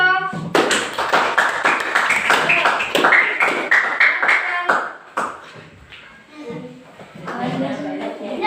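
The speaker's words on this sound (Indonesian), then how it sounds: "Tepuk tangan lagi dong." A class of schoolchildren claps together in a sustained burst of quick, overlapping hand claps that thins out and fades after about five seconds, followed by scattered voices and movement in the classroom.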